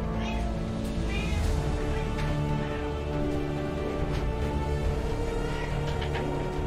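A cat meows a few times at moderate distance, with no talking, over a steady low indoor hum.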